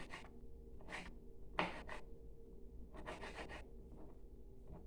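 A knife slices through a peeled lemon on a kitchen surface, giving a few quiet scraping, rubbing strokes with one sharper cut in between, faint and close against a soft background hum.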